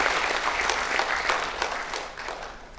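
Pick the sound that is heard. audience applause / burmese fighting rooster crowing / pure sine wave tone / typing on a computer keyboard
audience applause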